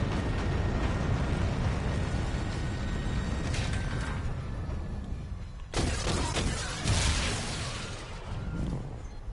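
A tower detonates in a space combat video game: a broad, sustained rumble and roar cuts out suddenly, then a second blast of crackling, debris-filled noise follows. It is loud and has no speech over it.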